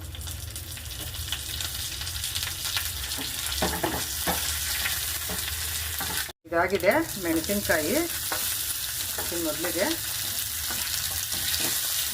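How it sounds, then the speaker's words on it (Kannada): Mustard seeds, cumin, chana dal and curry leaves sizzle and crackle steadily in hot oil as tempering for curd poha, with scattered stirring clinks and a brief break; a voice speaks a few words over it. "ಸ್ವಲ್ಪ ಸಾಸಿವೆ ಹಾಕಬೇಕು ಒಗ್ಗರಣೆಗೆ, ಸ್ವಲ್ಪ ಜೀರಿಗೆ ಒಗ್ಗರಣೆಗೆ"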